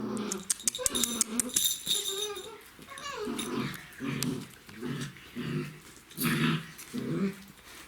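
Five-week-old Czechoslovakian wolfdog puppies play and nibble, giving small growls, whines and squeaky yelps in a busy, close tumble, with rhythmic grumbling bursts through the second half.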